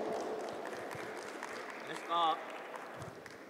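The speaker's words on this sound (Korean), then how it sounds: "여러분 큰 박수로 맞이해 주십시오." A seminar audience gives faint, continuous applause to welcome a presenter at a construction technology briefing, with a soft wash of clapping and a brief voice partway through.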